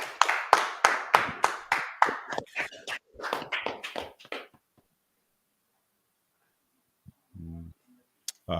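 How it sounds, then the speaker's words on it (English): A group clapping hands together at a brotherhood class gathering, quick rhythmic claps in a loud, close burst that thins into scattered claps and stops, followed by near silence with a faint low sound and a tap. "clap it up."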